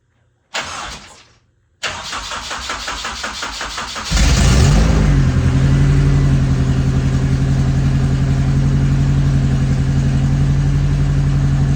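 A race car engine being started after a starter replacement: two short bursts of cranking, then the engine catches and settles into a loud, steady rumbling idle that runs to the end, with no talking.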